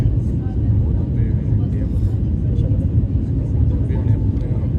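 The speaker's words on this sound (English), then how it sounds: "We are now taking turn to align with runway for landing." Steady, loud low rumble and airflow roar inside the cabin of an Etihad Airbus A350-1000 as it turns to line up with the runway for landing, continuous and even throughout.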